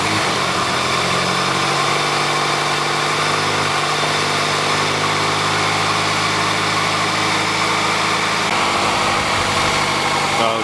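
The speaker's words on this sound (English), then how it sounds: "I know it's going to be loud and me talking over the engine idling. It is a cold start" A Honda Civic EF sedan with a B18B engine and no intake tube idles after a cold start on a windy day, a loud steady close-up hum with low rumble and constant vibration, unchanging for the whole stretch.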